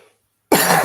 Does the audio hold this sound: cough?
yes